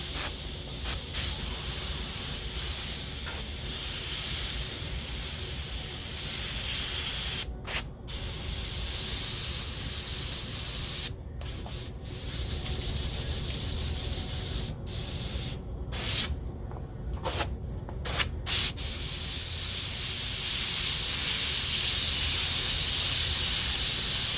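An airbrush sprays blue paint onto a roller skate, a steady close hiss running throughout with a few brief pauses in the airflow.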